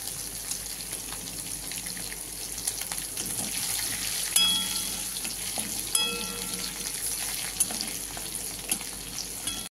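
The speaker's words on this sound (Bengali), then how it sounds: "এই যে কাঁচা লঙ্কা চিড়ে রেখেছি, এগুলো তেলে দেবো।" Slit green chilies hit hot oil as a tempering for a prawn and kochu flower dish, producing a strong, continuous sizzle with sharp spattering pops and a couple of metallic clinks along the way.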